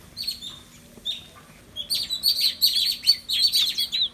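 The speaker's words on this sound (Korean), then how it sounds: "호텔인데 새가 있어요" Birds at a hotel in Côte d'Ivoire chirp and tweet in quick, high bursts that grow busier and louder toward the end, with no talking.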